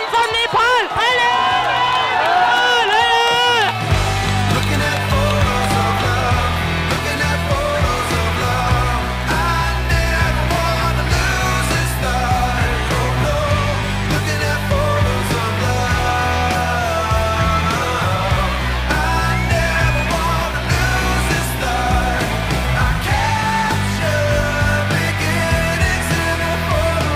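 Crowd of spectators cheering runners along the Zegama mountain trail race in the Basque Country, sustained roaring and shouting under a steady pulsing music bed, loud and continuous, with voices mixed in.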